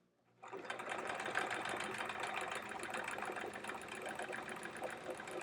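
Sewing machine quilting a pineapple block, starting abruptly after a brief silence and then running continuously in a fast, even stitching chatter, close and steady with no talking.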